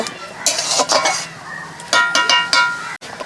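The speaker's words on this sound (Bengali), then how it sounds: "এখন এই যে মাটির বাটি নিয়ে নিয়েছি এখন আমি এই ছানার পায়েসগুলো ঢেলে নিচ্ছি" Chhanar payesh with nuts being ladled from a pot into clay bowls beside a village earthen stove, with several close clinks and scrapes of a metal spoon against the vessels in uneven bursts separated by brief pauses.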